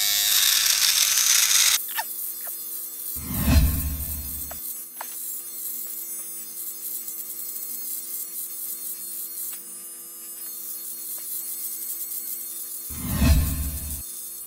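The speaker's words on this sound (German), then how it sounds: "setzt einen Rasierer an und los. Leb wohl, Bart." An electric shaver buzzes steadily while shaving off a full beard, a constant mechanical hum with louder rasping bursts as the blades press into the thick hair.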